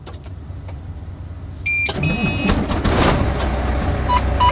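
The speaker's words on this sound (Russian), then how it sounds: "После этого мы проследуем внутрь грузовика и заведем мотор" A truck engine cranks over with a brief whirring starter, then catches and settles into a steady running rumble, close and fairly loud, with no talking.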